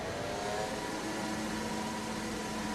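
A Formula 1 car engine at Monaco in a racing game drones in a steady, slightly rough, sputtering tone for a few seconds, with no voices over it.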